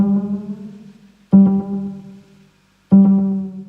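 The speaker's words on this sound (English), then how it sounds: "you get this really cool pitch effect off the actual echoes" Echoes from a Galaxy Tape Echo with its rate automated, three sustained harmonic tones that each start abruptly and decay, bending slightly in pitch, heard alone without any talk.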